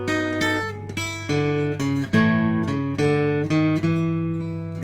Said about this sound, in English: It's a real Piedmont type lick